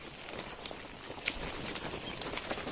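Pet birds kept at home give faint, scattered calls and brief flutters over a steady background hiss, with no one speaking.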